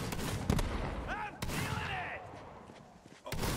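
Grenade launcher fire in the Borderlands 3 shooter: a few sharp, loud blasts at uneven intervals among dense game combat noise, with someone talking over it.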